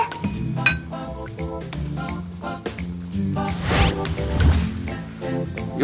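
Drinking glasses clink together in a toast between friends, a few bright chinks over background music.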